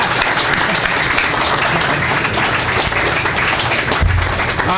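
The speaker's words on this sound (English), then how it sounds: "how about a big round of applause for our candidate?" Loud, dense audience applause for a candidate at a Republican congressional district debate in Nebraska, sustained clapping from a large crowd throughout.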